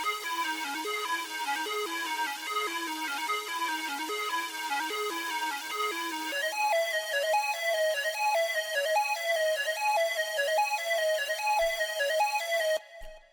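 Synth lead made in Serum for a hip-hop beat, a bright, plucky melodic line of rapid repeating notes that plays continuously and moves up in register partway through before cutting off abruptly.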